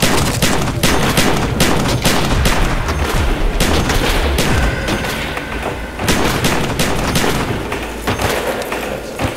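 Rapid, loud gunfire in Black Ops 2 modded zombies, dense overlapping shotgun blasts and booms filling the whole stretch with barely a pause.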